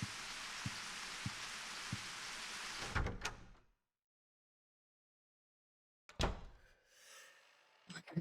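Rain in the Silent Hill 4: The Room game, a steady patter with a few soft knocks in it. The rain cuts off sharply, followed by silence, then door-like thuds and scraping.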